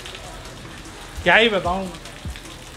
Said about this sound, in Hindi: एंड बारिश हो रही है भाई साहब खूब